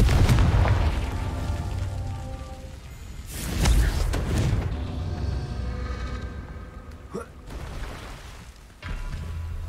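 Confringo fire-blast spells going off in the video game Hogwarts Legacy, bursting as deep, rumbling booms with rolling tails over a low musical score, loud and close, several blasts in a row.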